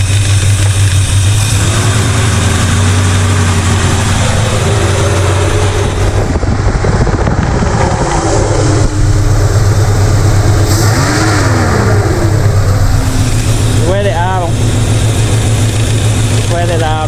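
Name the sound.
Chevrolet El Camino engine idling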